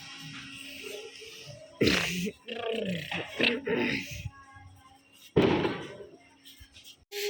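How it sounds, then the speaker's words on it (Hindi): Diwali firecrackers burst outdoors at night, two sharp loud bangs several seconds apart with lingering crackle, while people talk nearby between them. "पटाखे फूट रहे हैं ना, बहुत सारे पटाखे फूट रहे हैं"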